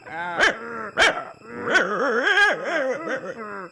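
A cartoon dog in a Bengali children's folk tale barks in three short, loud, sharp bursts, then lets out a longer, voiced, whining yelp. The barks are close and prominent, and no speech is heard.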